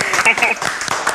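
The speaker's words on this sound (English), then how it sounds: "a round of applause for Melissa" A short burst of studio audience clapping on a live South African afternoon talk show, celebrating a guest named Melissa, mixed with voices talking over it.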